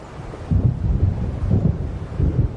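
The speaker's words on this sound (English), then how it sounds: "It seems there's a storm coming." Storm wind gusting and low thunder rumbling from the video game Alan Wake Remastered, a steady roaring bed with three heavier low surges rolling through.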